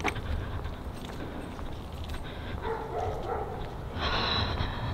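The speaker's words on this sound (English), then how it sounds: "I hear the dogs, so I guess they're here." Dogs bark from inside a house while someone stands outside the door, the barks muffled and somewhat distant, arriving in short bursts over outdoor background noise.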